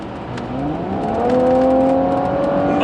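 An Audi S4's engine revs up hard from inside the cabin, its pitch rising smoothly over about a second and then holding at a loud, steady high-rev tone.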